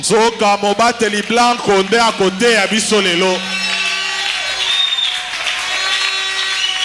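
Someone talks briefly at a church service, then the congregation breaks into sustained applause and cheering that carries on to the end.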